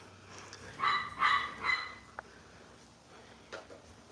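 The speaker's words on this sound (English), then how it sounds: "tell the dog to shush. She want to come outside." A dog that wants to come outside barks in a quick cluster of three or four sharp, yelping barks near the microphone, followed by a lone faint yip and then quiet.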